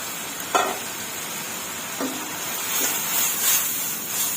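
Fresh garden-picked holy basil leaves drop into a hot frying pan with a few sharp crackling bursts, settling into a steady bright sizzle and hiss that builds slightly toward the end, no voices.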